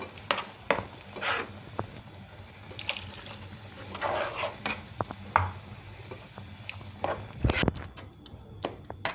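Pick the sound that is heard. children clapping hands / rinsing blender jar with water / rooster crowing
rinsing blender jar with water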